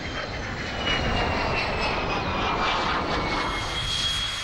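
A loud, steady roar of an early jet aircraft passing overhead at an airshow, a continuous broadband rush with a whining high tone, no voices.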